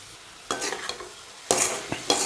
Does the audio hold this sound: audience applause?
no